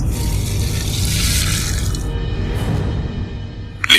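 Cold water from a fridge bottle is poured over someone's head, a sustained splashing gush for about two seconds that fades into quieter trickling, with a faint clatter at the end.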